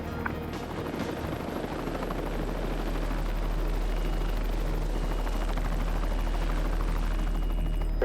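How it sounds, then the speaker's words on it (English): Steady, loud rescue helicopter rotor thumping builds and holds throughout as it approaches a hospital, a continuous chopping drone with no voices. "we got the call that the helicopter's on its way now"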